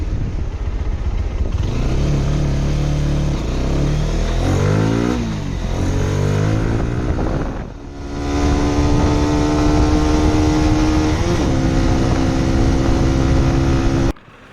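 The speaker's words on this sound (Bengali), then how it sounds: "বাইকটার অ্যাক্সেলারেশন দারুণ" A GPX Demon motorcycle engine revs up repeatedly, climbing through gears in rising whines, dipping briefly, then accelerating again and holding a steady, loud drone.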